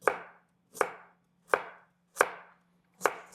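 A knife chops carrots on a cutting board in a home kitchen, five evenly spaced thuds at a slow, steady pace, close and moderately quiet, with a faint steady hum underneath and no talking.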